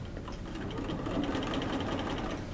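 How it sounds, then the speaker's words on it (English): A sewing machine runs steadily while stitching a dart on fabric, a close, continuous mechanical whir with a rapid needle patter throughout and no pauses. "So sew a few stitches, then back stitch"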